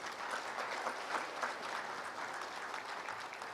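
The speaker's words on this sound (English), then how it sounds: "Can we please have a huge round of applause?" Steady audience applause fills an indoor summit session on chemicals and petrochemicals, a dense, even wash of many hands clapping together without pause, heard alone at moderate level.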